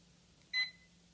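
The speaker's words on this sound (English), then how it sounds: "that little beep signifies that the remote and the helicopter sync, so they're talking to each other" Sync beep from a Hubsan X4 quadcopter and its remote: a single short high electronic beep, clear but modest in level over a faint steady hum, alone with no talk.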